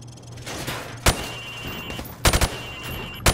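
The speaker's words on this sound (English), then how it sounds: "Now, shoot at the targets while firing from the hip." A rifle fired from the hip at training targets in Call of Duty: Modern Warfare Remastered, with a single sharp shot followed by two short bursts of three or four rapid cracks, loud and close over quiet range ambience.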